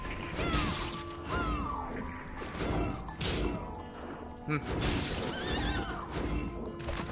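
Several whinnying, neigh-like cries from a seahorse enemy in the game Bloodstained, repeated over a dense backdrop of game music and effects, with occasional thuds.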